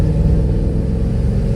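A Mercedes E55 AMG under full throttle gives a deep, steady engine roar with heavy low rumble, heard from inside the car, loud and unbroken.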